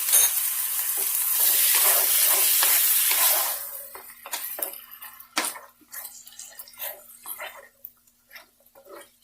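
Meat paste with ginger and garlic paste sizzles loudly in a hot pan, then the frying quiets to crackles under repeated scraping and stirring strokes, heard close up.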